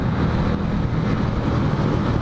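A stock, unmodified small motorcycle passes along the Pantura road, its engine a steady low rumble that stays fairly loud and even across the short stretch, with no voices.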